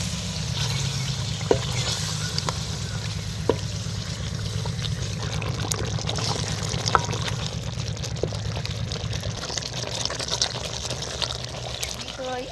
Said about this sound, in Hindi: अभी जो है ना ये फ्राई हो रहा है बकरे का गोश्त